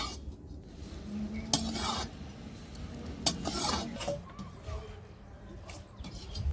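Dry coconut (gola) is stirred as it roasts in a pan over a low flame, with quiet, irregular spoon scrapes and taps against the metal, soft and close, and no talk.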